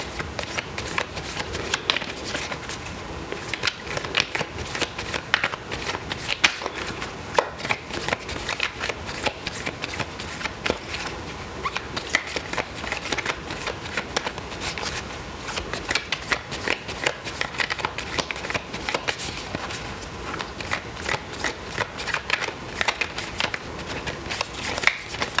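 Large tarot cards being shuffled by hand in continuous rapid riffles and slides, close and busy with dense papery flicks throughout.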